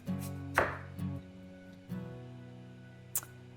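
A knife chops through rutabaga on a cutting board in a home kitchen, with three or four distinct thuds spaced about a second apart, close and moderately loud, plus a sharp tap near the end.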